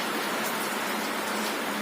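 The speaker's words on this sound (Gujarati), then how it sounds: "હમણાં તો છાંટા આવે છે થોડા" Light rain falls steadily outdoors, a constant close hiss of drops on surfaces with no voices.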